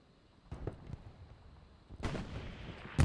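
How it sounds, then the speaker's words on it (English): German artillery shells land around a farmhouse in a World War II combat video game: three heavy, booming impacts with rumbling tails, each a few seconds apart and the last the loudest. "That is the German artillery dropping around Granny's house"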